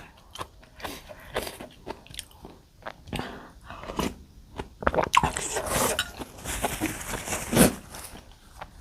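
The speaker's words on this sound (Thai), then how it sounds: "เวลาเคี้ยวแล้วก็คือจะดังแบบกรอบกราบอะไรเงี้ย" Crisp, loud crunching and biting close to the mic as someone eats a spicy northern Thai stir-fried young jackfruit dish with fresh vegetables, irregular bites building to a dense run of crunches.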